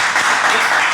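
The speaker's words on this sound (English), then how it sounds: "Keep clapping." Brief burst of audience applause at a live talk event, a dense, even patter of many hands clapping.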